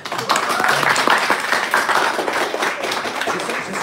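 An audience applauding Mr. Urban at a travel talk about backpacking through Vietnam, a dense, steady wash of many hands clapping, fairly close and loud, fading slightly toward the end.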